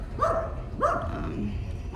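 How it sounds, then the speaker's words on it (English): Chihuahuas barking in a residential area of El Palmar, Mazatlán: two sharp, fairly close yapping barks about half a second apart, with a third starting at the end, over low background rumble. "dogs everywhere that always want to attack, although those are chihuahuas"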